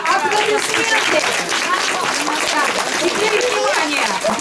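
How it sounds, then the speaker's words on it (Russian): A crowd at a Moscow bookstore event applauds steadily and dense throughout, with voices talking over the clapping. "Да, аплодисменты, аплодисменты."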